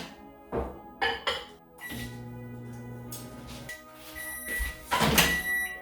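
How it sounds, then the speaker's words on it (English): A microwave oven heats butter and coconut oil in a dish. Clinks and a door thunk come first, then a low steady hum for a couple of seconds, followed by more clattering and knocks close by. "Now we take this, put it in the microwave for 30 seconds."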